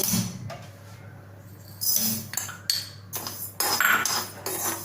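Dry rice being roasted in a kadhai for a Marathi chutney, with intermittent scraping and clinking as a metal spoon stirs the grains against the pan, scattered bursts over a quiet background hum.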